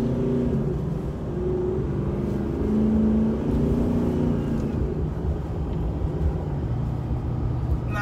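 A 2019 Nissan Titan XD Rocky Ridge Stealth truck accelerates through busy traffic, its engine a steady low rumble that holds throughout with slight rises in pitch, close and fairly loud, with no talking.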